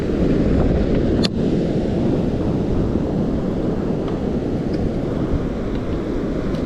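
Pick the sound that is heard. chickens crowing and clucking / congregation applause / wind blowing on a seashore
wind blowing on a seashore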